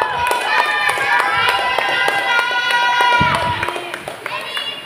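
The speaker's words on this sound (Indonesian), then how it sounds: "Kasih dulu aplaus temannya." Applause and cheering from a crowd at a student debate competition semi-final, a steady dense patter of clapping with bright whistles and shouts layered on top, continuous throughout and fading slightly toward the end.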